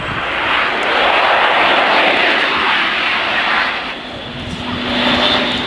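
An Airbus A400M military transport aircraft passing with a loud, steady engine roar and broad propeller-driven rumble, swelling and easing slightly over a few seconds, heard alone with no talk.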